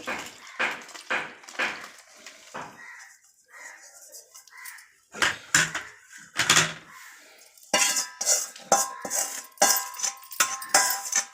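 Amla (Indian gooseberry) pickle stirred by hand with salt and tempering oil in a metal vessel, giving repeated scraping and clinking spoon strokes against the pot, close and fairly loud, with brief pauses between bursts.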